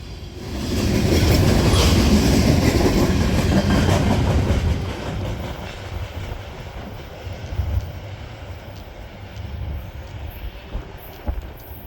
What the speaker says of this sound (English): Tonight's 30T is hauling the usual Canadian paper products, lumber, acid, scrap metal, and all sorts of goodies.